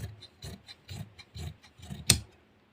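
Scissors snip through excess cloth while a kameez is cut, giving a steady series of close rasping cuts about every half second that end in one sharper, louder snip.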